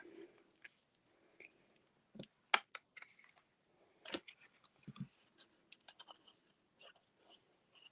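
Card paper being trimmed during greeting card making: scattered snips and crisp cutting crunches, with soft paper rustles and handling clicks in between, close and fairly quiet.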